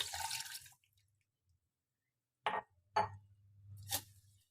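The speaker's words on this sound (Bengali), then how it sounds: "পুরো দুধটা আমি দিয়ে দেব।" Milk poured into a mango shake mix, a short gush at the start followed by a few small splashes and drips, close by and quiet, with a soft low hum underneath.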